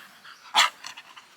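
A Thai Bangkaew dog gives one sharp, close bark, followed by a few softer huffing sounds.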